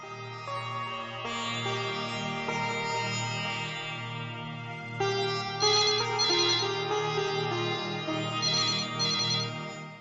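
Telephone ringtone in a Hindi TV drama scene: an electronic melodic ring plays continuously for about ten seconds in repeated phrases, loud and alone with no talking.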